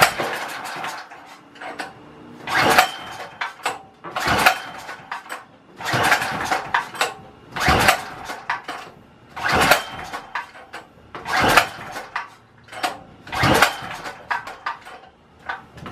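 Predator 4000 generator engine pull-started with the choke on, heard as about eight repeated rattling crank strokes in an irregular rhythm, each a brief loud burst with quiet gaps between and no running engine or talking.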